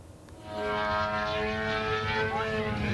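A drone from Iran drones with a steady propeller-like hum that swells within the first half second and holds loud and continuous near the US consulate in Dubai.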